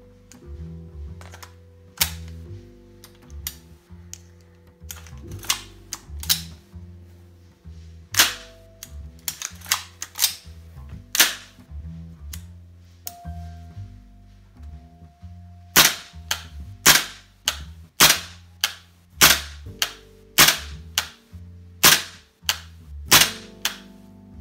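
A VFC HK416A5 gas blowback airsoft rifle fires repeatedly, with sharp, close mechanical cracks coming singly and in quick strings over a low hum, growing denser and louder toward the end.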